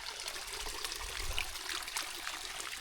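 Water flows steadily outdoors at a village in Deraje, a faint continuous trickling rush with no clear breaks and no talking.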